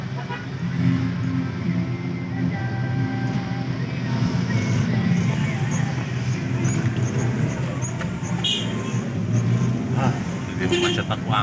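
Ride inside an angkot minibus stuck in a traffic jam, with a constant low engine and road rumble and scattered street noises, while people talk over it throughout.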